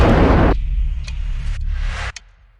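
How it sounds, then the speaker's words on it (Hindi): A cartoon-style blast as a dog explodes: a loud, noisy burst opens the clip and gives way to a low rumbling tail, with a few short sharp crackles and pops before it cuts off. "कुत्ता लड़खड़ाया और फिर एक जोरदार धमाके से फट गया।"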